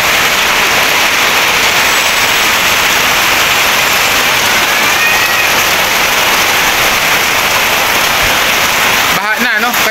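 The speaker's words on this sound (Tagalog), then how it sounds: "At malakas talaga ang hangin at ulan ngayon, no?" Heavy rain and strong wind during a typhoon roar as a dense, steady hiss, loud and unbroken throughout, with a brief rustling disturbance near the end.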